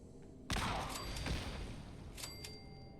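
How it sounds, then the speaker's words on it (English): A grenade goes off in a video game with a sudden loud burst, then a rumbling tail and scattered crackles and metallic pings fading over the next few seconds. "when I toss this grenade"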